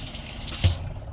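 Cold water running from a tap fed by an onboard water pump, a close steady rushing flow with a brief louder surge partway through before easing off.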